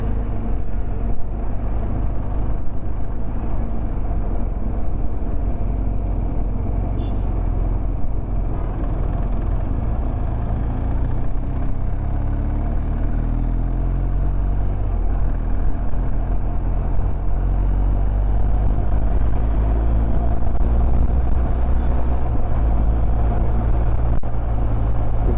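A BMW GS 1250 motorcycle engine drones steadily while riding, a loud continuous rumble with wind noise and no talking throughout.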